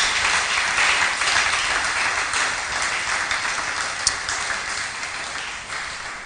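Broad, steady applause from a church congregation during a Sunday service, a dense wash of clapping that holds fairly even for several seconds before easing slightly, with one sharp tap standing out near the end.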